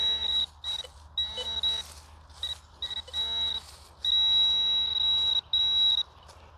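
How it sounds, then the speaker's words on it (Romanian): A metal detector sweeping over ground where a coin is buried sends out a series of sharp, high electronic beeps in short bursts and then longer held tones, fairly loud, with faint voices in the background. "Monedă, fraților, primul semnal monedă."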